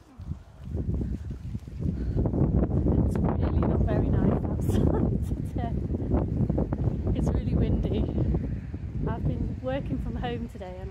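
Steady outdoor wind, a constant rushing buffet, loud and close like gusts hitting a microphone, with no break across the whole stretch.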